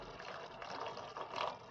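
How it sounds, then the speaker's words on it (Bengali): A small amount of water is poured into egg pepper fry masala in a pan, a faint, steady splashing pour lasting under two seconds. "সামান্য পরিমাণ এখানে জল দিচ্ছি।"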